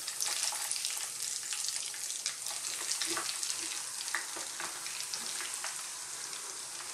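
Steady, dense sizzling of chicken pieces frying in hot oil, close and continuous, with faint crackles and occasional stirring clicks.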